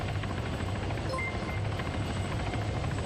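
Military helicopters in a video game produce a steady, loud rotor drone that fills the whole stretch without pause, with no voices.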